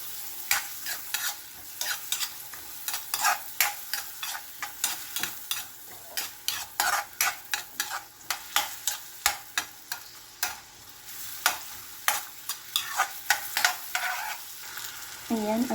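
Garlic and onion frying in butter in a pan for beef shank caldereta, a steady close sizzle broken by repeated sharp scrapes and clinks of a utensil stirring.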